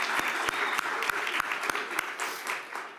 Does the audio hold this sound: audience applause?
yes